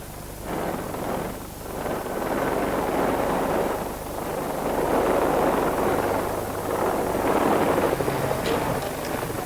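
Steady police helicopter rotor drone overhead mixed with wind rumble across the whole stretch, loud and continuous without any talking.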